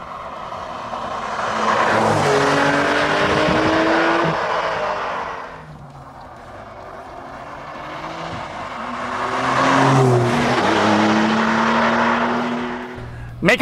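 A 2023 Porsche 911 Carrera T with a turbocharged six-cylinder boxer engine drives past, rising and falling twice in long sweeping swells of engine noise with a faint tire edge, strongest near the middle of each pass.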